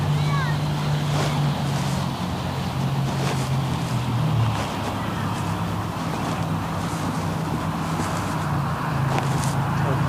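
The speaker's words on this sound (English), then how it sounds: "A little bit of wind up there." Gusty wind blows steadily outdoors where a delta kite is being flown, a constant broadband rush with a low droning hum underneath and brief faint voices.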